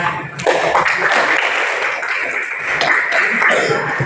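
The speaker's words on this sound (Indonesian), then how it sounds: "Kasih aplaus dulu buat" Applause from a classroom audience, a continuous dense patter of clapping lasting several seconds, fairly loud and close.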